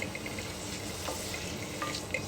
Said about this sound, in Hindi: इसी के साथ हम इसमें डालेंगे चॉप्ड अनियन, हल्का से इसको सौटे कर लेंगे